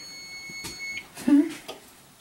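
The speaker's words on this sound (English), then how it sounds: "So the timer's going off," A kitchen timer on an oven beeps in a short high-pitched tone near the start, then a voice talks over faint background noise.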